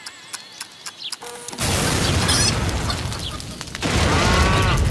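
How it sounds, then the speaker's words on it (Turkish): A few sharp mechanical clicks give way to a sudden loud blast, followed by a sustained roar that surges again near the end. "yine bir şeyler patladı"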